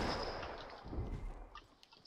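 Hand cannon gunfire in a Fortnite match gives a quiet, muffled burst of shots and thuds, the fire brief and faint with a few sharper clicks following.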